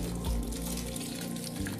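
Water left from boiling pork pours steadily into a pot of soaked beans, a continuous close splashing stream with a low rumble, no voices.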